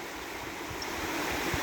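Shallow riffles on the Little Miami River rush and gurgle in a steady, broadband wash of flowing water, close and continuous with no voices.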